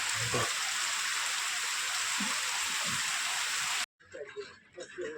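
Steady, dense rain hisses over a farm for several seconds, then cuts off abruptly into a quieter stretch with faint murmuring voices.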